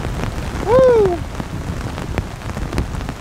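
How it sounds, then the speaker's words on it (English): Heavy rain pours steadily during an outdoor woods camping gathering, with low thunder rumbling underneath and one person whooping briefly. "There goes the thunder again."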